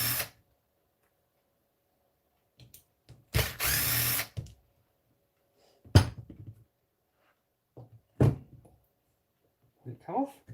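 A power drill runs in several short bursts while backing screws out of the bottom of a Traxxas Maxx RC truck, with one longer whir among brief buzzes and people talking quietly between them.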